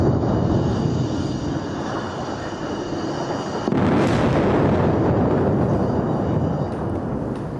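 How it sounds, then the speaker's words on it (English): An airstrike explosion in Beirut, heard as a sustained loud, broadband roar with a sharper surge partway through, continuing as a heavy rumbling wash with no speech over it. "another explosion taking place during the course of that interview, so moments ago there in Beirut"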